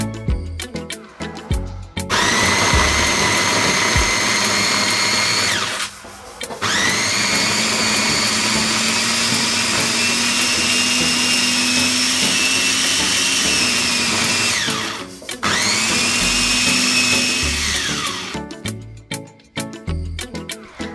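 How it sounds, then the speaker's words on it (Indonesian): A blender coarsely grinds a spice paste in three long runs, whirring loudly with a high motor whine, separated by brief pauses and ending with a few short pulses. "Sekarang aku mau blender bumbunya tapi dengan tekstur yang kasar dulu."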